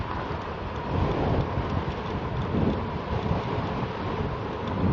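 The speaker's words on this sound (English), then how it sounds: "Oh, got a lot of wind here." Heavy wind rushes against the microphone while riding a 2018 RadMini electric fat-tire folding bike at about 20 mph, a dense, constant roaring rumble with slight surges and no talk.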